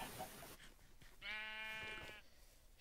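A sheep in the Minecraft video game lets out one clear, drawn-out bleat that wavers for most of a second, loud and close, after a short stretch of soft background noise.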